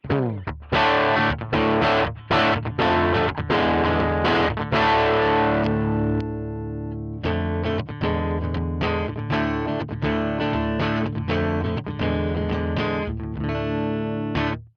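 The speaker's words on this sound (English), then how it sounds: "with all of the effects turned off, this is what the Princeton sounds like when you just plug into it" An electric guitar played through a Line 6 Pod Express Fender Princeton amp model with no effects, ringing chords and single notes with a slightly gritty edge, strummed and picked in bursts.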